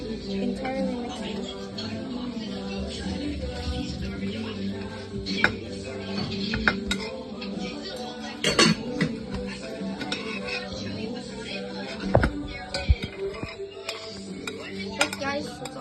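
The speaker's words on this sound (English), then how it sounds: "Some of the pieces didn't got sauce and some got super sauce. Yeah. So we have to entirely mix it." Cooked pasta being stirred into sauce in a pot, with scraping utensil clinks and knocks against the metal at irregular moments while people talk over it.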